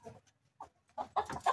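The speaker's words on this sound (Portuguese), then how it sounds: "galinha chocando" A brooding hen sitting on nine eggs on the ground clucks in short, soft bursts, a few low murmurs followed by a louder run of clucks close to the microphone.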